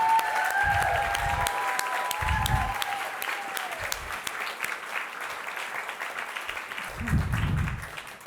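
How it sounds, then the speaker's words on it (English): Audience applause at a feminist conference session, steady moderate clapping from a crowd with a few brief vocal sounds and a tonal sweep early on. "If we could give her a massive round of applause."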